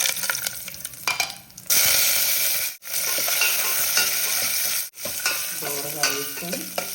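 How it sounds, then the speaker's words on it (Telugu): Cashew pieces sizzle in two spoons of hot ghee for coconut vermicelli payasam, with bright steady frying hiss and repeated scraping stirs of a spoon against the pan, loud and close. "కొంచెం జీడిపప్పులు ఇలా తుంపులు చేసుకొని మన ఇష్టం ఎన్ని కావాలంటే అన్ని వేసుకోవచ్చు."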